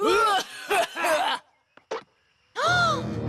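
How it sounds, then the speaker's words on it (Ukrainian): A cartoon pony-world dragon coughs in a few rough, voiced bursts that read as groaning hacks, close and loud, with a short quiet gap and a separate voice at the end. "ти кашляєш через гігантську хмару страшного чорного диму"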